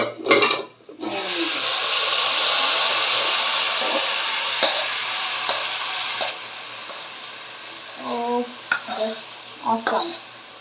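Something is poured into onions and garlic browning for haleem in a pan, raising a loud steady sizzle that holds for several seconds, then settles as a spoon scrapes and clinks against the pot near the end.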